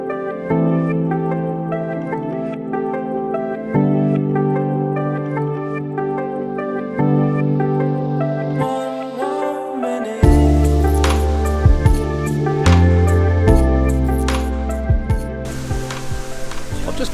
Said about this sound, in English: That's a good amount of water flow.